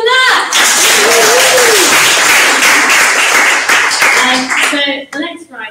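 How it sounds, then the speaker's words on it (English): Audience applause at a literary anthology launch, a loud sustained wash of clapping with voices speaking over it at the start and end. "Another round of applause for that!"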